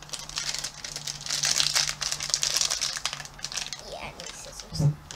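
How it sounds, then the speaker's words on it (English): A pink Fingerlings Minis toy packet crinkles loudly as it is handled and pulled open, with irregular crackling bursts, and someone talks briefly in the background. "The first one I'm going to open is the pink packet."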